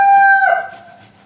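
A rooster at a chicken farm lets out a short, loud crow that fades quickly, heard close and alone.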